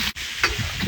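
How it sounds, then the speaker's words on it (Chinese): Vegetables stir-fried in a wok while camping, a steady loud sizzle and hiss with brief stirring noises, close and continuous through the short moment. "开始炒菜了"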